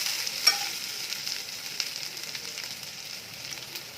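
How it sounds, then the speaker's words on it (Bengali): Onions and chana dal sizzle in a pan for masala dosa filling, with a close, steady frying hiss and occasional soft scrapes of stirring. "পেঁয়াজটাকে দিয়ে ভালো করে নাড়াচাড়াকে দিয়ে নিচ্ছি।"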